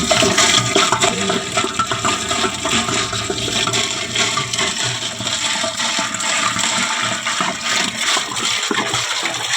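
Twenty litres of mineral water pour into a home aquarium in a loud, steady, close rush of gushing water that continues without a break and carries no speech.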